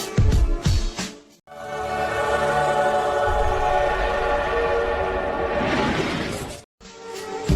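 A train rumbles along steadily for several seconds, a dense continuous roar with brief gaps at the start and end, heard alone without talk.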